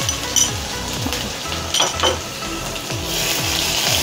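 Crushed ginger, garlic and fennel seeds fry in hot oil in a pan for a tomato kurma, a steady close sizzle running throughout with a few faint clinks of a utensil.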